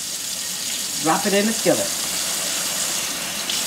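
Cold water runs steadily from a kitchen tap throughout as a hissing, constant stream while hot water cornbread is shaped for a skillet, with a person speaking briefly over it near the middle.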